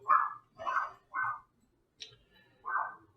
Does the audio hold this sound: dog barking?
yes